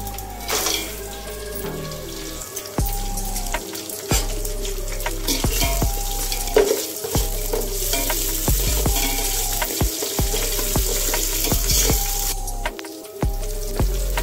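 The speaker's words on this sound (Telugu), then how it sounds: "మసాలా దినుసులని వేయించుకున్న తర్వాత" Whole spices frying in a pan, a steady close sizzle with repeated stirring scrapes and clinks of a utensil against the pan throughout.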